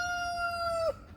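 A rooster crows at close range beside a backyard greenhouse and chicken yard, one loud drawn-out call that breaks off sharply at the end, over faint background noise.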